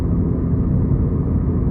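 A third-generation Mitsubishi Eclipse Spyder GT with a loud exhaust and a suspected leak up by the headers above the catalytic converter gives a steady, close, deep idling rumble without pause.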